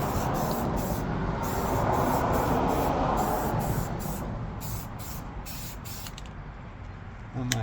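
An aerosol spray paint can hisses in a series of short rhythmic bursts, close by, over a steady background rumble.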